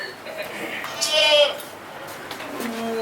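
A goat bleats loudly in a Mumbai stage play, one long wavering bleat in the middle with shorter bleats around it, set against the hall's background murmur.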